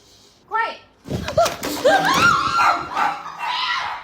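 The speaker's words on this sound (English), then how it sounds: "Hey, no barking." A feisty small dog yaps and barks sharply at a hawk, in quick loud bursts close by, with a voice scolding it over the noise.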